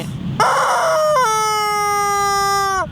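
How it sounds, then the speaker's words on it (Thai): A rooster crows loudly and close, with one long drawn-out call that rises and then holds steady before trailing off. "ไก่โอ๊กนะครับ โอ๊กยังไงใช่ไหมมันโอ๊กอย่างนี้"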